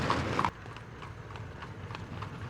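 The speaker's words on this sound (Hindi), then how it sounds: "राजकुमार अपने घोड़े को तेज गति से भगाता है" A horse gallops at speed, its hooves clip-clopping in a rapid, steady rhythm after a louder burst of sound at the start.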